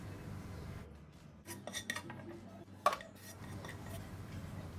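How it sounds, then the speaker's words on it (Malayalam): Metal cookware and a utensil clink and scrape as sautéed vegetables, such as beans, are moved into another vessel; a few sharp knocks stand out over quiet kitchen background. "ഇത് നന്നായി വഴറ്റിയതിന് ശേഷം നമുക്കിത് വേറൊരു പാത്രത്തിലേക്ക് മാറ്റി വയ്ക്കാം."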